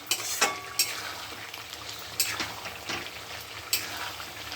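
Mutton sautés in a hot pan during slow kosha cooking, a continuous sizzle broken by a few sharp metal spatula scrapes and clinks against the pan.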